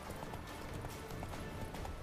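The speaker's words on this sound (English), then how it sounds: "Horse needs more stamina." A horse galloping in The Witcher 3 video game, its hooves drumming in a steady, fast clip-clop under a dense wash of game ambience, with no talking.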